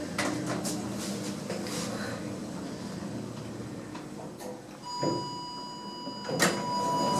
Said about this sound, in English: And now we go to a glass Schindler Eurolift.